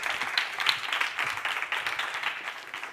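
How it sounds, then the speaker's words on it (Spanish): Steady applause from a live audience welcoming a guest speaker at an event, continuous dense clapping throughout at moderate volume, with no voices over it. "por favor, un fuerte aplauso"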